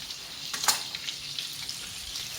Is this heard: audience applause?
no